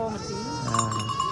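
Goat bleating at a goat market, a wavering, harmonic bleat that rises and falls over a steady crowd murmur.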